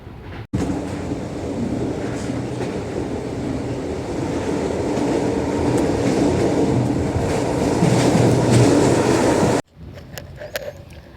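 Loud, continuous rumble and rattle of a passenger train running on rails between Zagreb, Croatia and Slovenia, steady throughout, cut off abruptly near the end with quieter clicks after.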